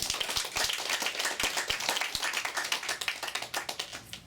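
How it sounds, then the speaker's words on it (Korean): A church congregation claps together in a dense, lively burst of hand claps, sharp individual slaps standing out early before the sound thins slightly toward the end, with no talking over it. "하나님 앞에 영광의 박수 올려드립니다."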